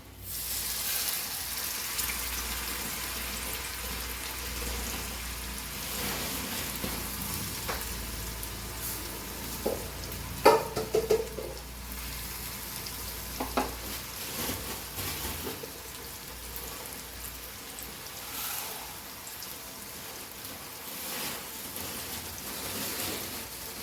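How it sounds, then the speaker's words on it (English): Rava-coated seabass frying in medium-hot oil gives a steady, even sizzle throughout, with a few louder crackles and pops in the middle as the fish cooks, fairly close and alone. "So now we'll fry. The oil is hot, medium."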